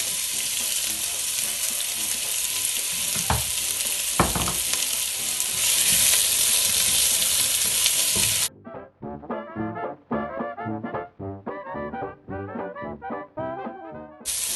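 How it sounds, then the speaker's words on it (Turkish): Two thinly sliced onions sauté in about four tablespoons of olive oil in a hot pot, giving a steady, close hiss with a few stirring knocks before the sizzle cuts off abruptly. "Şimdi soğanları kavurmakla başlayacağız."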